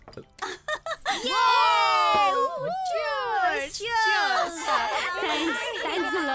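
Several girls scream and shriek wildly in high, sliding wails, loud and close, with short excited voices at the start.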